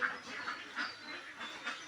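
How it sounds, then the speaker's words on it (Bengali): A large flock of ducks, some five hundred in a duck house, keep up a steady, overlapping quacking chorus nearby, with individual calls popping out over the general din. "এটা আমার হাঁসের ঘর এখানে পাঁচশো হাঁস লালন পালন করতেছি"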